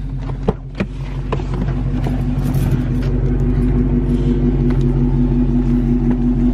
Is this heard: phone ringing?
no